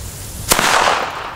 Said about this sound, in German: vom Knall her ein sehr, sehr guter D-Böller